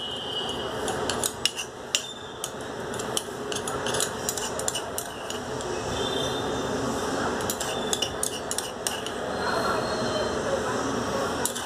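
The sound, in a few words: spoon mixing burnt clove ash into honey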